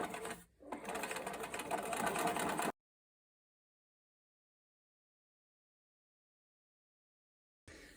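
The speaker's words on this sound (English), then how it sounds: "So I'm going to stitch this about 1 centimetre in from the edge there." A sewing machine stitches jeans fabric about a centimetre from the edge, a fast steady whirring run of a couple of seconds after a short pause, then silence and a brief restart at the end.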